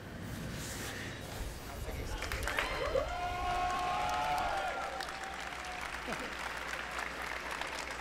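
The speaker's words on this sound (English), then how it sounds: "Was it necessary to like applaud for that?" A crowd at the EA press conference at E3 2018 applauds and cheers, moderately loud and continuous, with voices mixed in.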